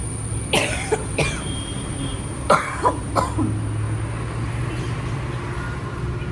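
Several short, harsh coughs in quick bursts near the start and middle, then quieter, with a steady low rumble of traffic behind them.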